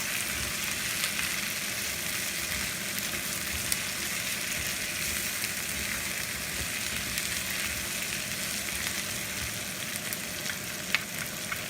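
Peppers frying for chili paneer, a loud, steady hiss and sizzle of oil in a pan heard close up and alone, with faint stirring underneath.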